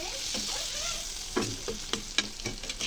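Prawns sizzle in a hot pan as they are stirred, a continuous hiss of frying broken by several sharp scraping strokes of the spatula.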